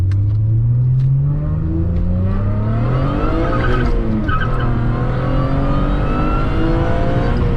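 An Acura TL accelerating hard with traction control off, its engine note climbing steadily through the revs with a rising whine and a brief tire chirp midway, loud and close with no talking.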